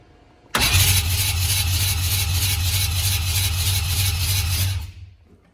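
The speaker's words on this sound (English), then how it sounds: "And here we go for the 4th rotor. Full throttle." A four-rotor AWD rotary engine fires and holds at full throttle, a sudden loud, raspy, sustained roar with a deep low drone that runs for about four seconds before cutting off and fading away, with no voices.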